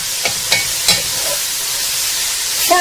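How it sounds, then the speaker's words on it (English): Sliced Chinese cabbage stems stir-fry in a pan over high heat, a loud steady sizzle with a few sharp clicks of the utensil against the pan, with no voices. "you want to stir fry these bad boys on high heat with an occasional stir"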